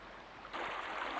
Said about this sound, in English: Ah, the sounds of the babbling brook.